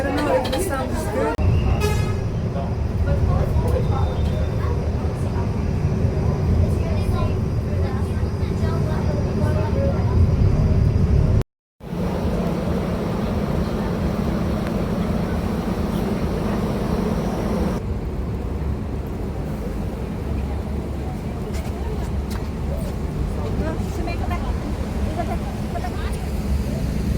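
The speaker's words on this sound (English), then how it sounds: "Let me show you the bus a little bit." A hop-on hop-off tour bus rides through Kuala Lumpur with a steady loud engine and road rumble, brief horn toots and chatter, and people talking throughout; there is a short cut partway.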